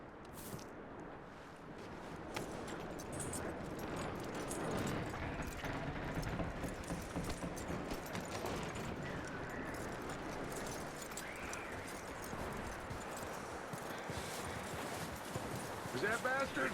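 Horse hooves clip-clop at a steady walking pace in the video game Red Dead Redemption 2, a soft, even rhythm set against a quiet outdoor background that runs through the whole stretch.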